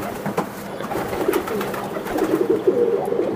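A racing pigeon from a breeding pair coos in soft, repeated low calls close by, with faint background rustles and clicks.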